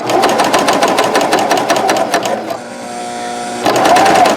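A Janome CoverPro 3000 coverstitch machine sewing a top cover stitch, loud rapid needle chatter that pauses for about a second to leave a faint hum, then starts up again.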